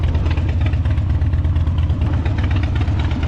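A 2008 Harley-Davidson Dyna Low Rider FXDLI motorcycle engine idling close by. It gives a deep, steady, throbbing rumble with an even pulse and no other sounds over it.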